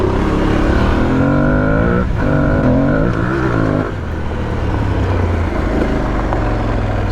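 An Aprilia Tuareg 660 motorcycle engine drones steadily and loudly as it climbs a rocky, shaly uphill, with the pitch rising and falling as the rider works the throttle.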